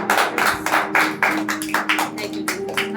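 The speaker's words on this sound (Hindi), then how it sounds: "तालियों के साथ धन्यवाद करेंगे" A church congregation claps together in thanks during a worship service, sharp overlapping hand claps in a steady, fairly loud rhythm filling a reverberant hall, with a faint sustained tone underneath.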